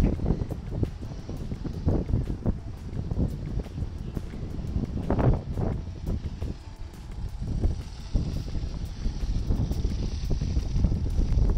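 Wind gusts steadily across a sailboat out on the water, making rough, blustery roar and microphone buffeting that lasts throughout with no pauses.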